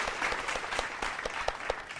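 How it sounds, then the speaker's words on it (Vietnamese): Studio audience applause on a Vietnamese TV dating show, a steady dense wash of clapping with a few sharper individual claps standing out, filling the whole moment without talk. "Một tràng vỗ tay thật lớn."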